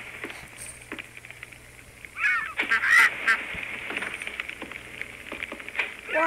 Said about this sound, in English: What about this little duck?